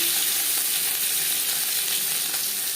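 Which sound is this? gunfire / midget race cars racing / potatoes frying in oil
potatoes frying in oil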